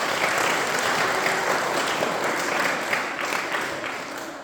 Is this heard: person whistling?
no